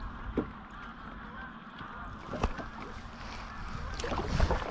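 Geese and ducks in a large flock of a couple of thousand birds honk and call over open water on Tyrifjorden, Norway, heard from a small boat as a continuous mass of calls with some closer honks standing out.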